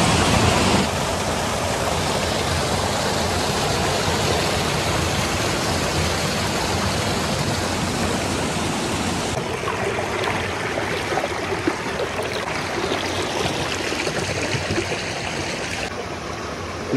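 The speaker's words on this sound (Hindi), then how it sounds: "भाई ये कहाँ से आया ये पानी? कौन सा नदी है?" A river flows strongly through an eco tourism park in Karbi Anglong, a loud, dense, continuous rushing of water with no voices over it.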